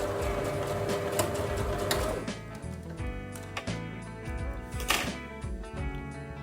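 A sewing machine stitches a seam from the other side of the fabric, giving a fast rattling run that slows into irregular clicks and thunks, close by.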